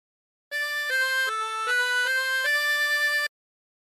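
A tremolo harmonica with 24 holes plays a short phrase of God Rest Ye Merry Gentlemen, six steady reedy notes in sequence with a wavering shimmer, clear and close with nothing else around.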